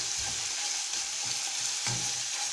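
Food sizzles steadily in a hot pan while a utensil stirs and scrapes through it, with a low scrape near the end. No one speaks.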